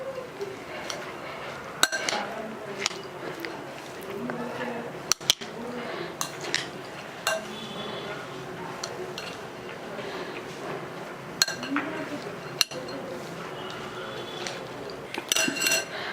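A spoon clinks and scrapes against a bowl while kosambari salad, a lentil dish tempered with asafoetida, mustard seeds and coriander leaves, is mixed, giving irregular bright taps and clacks at close range, with some sharper knocks.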